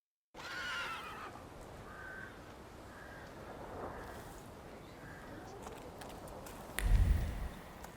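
A horse in the video game The Thaumaturge neighs and whinnies several times against a quiet background, then a brief low thump sounds near the end.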